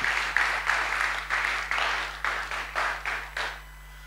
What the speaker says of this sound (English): Another round of applause for Dr. Joseph.